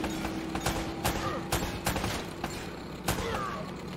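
Rapid bursts of gunfire from the video game Uncharted: Drake's Fortune, several sharp shots spaced irregularly over a steady background of game noise.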